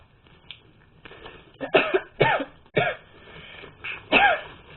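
Someone coughs repeatedly while eating popcorn during a popcorn-eating challenge, a rough run of about six close, loud bursts with throat-clearing between them.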